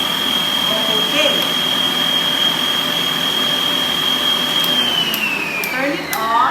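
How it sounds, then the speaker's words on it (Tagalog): An electric mixer whisks oatmeal cinnamon cookie batter with a steady high whine that holds for several seconds, then drops in pitch as it winds down. A person talks over it. "So we'll whisk this again for about 3 seconds."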